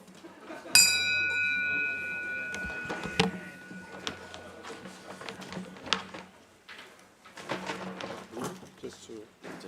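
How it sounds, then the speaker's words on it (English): A bell is struck once with a bright, ringing tone that decays over a few seconds, followed by murmuring voices and soft room noise. "Ring the bell."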